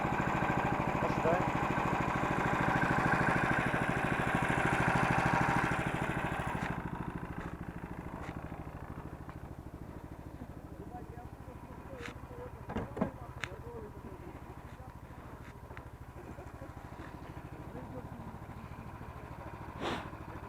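A small engine runs loud and steady beside a wintry forest river during ice fishing, then cuts out about a third of the way through, leaving quiet outdoor ambience with a few sharp knocks and voices.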